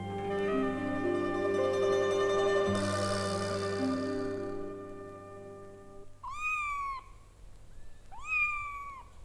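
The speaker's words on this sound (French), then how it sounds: "Il y avait au bas de l'escalier 8 petits chatons qui se démenaient dans un panier." Several kittens mewing from a basket at the foot of a staircase, high rising-falling meows standing out near and clear after a stretch of soft background music.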